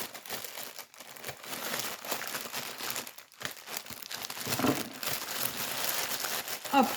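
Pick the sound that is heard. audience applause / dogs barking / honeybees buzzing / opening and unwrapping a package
opening and unwrapping a package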